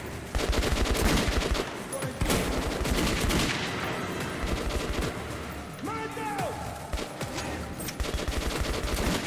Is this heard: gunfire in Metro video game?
yes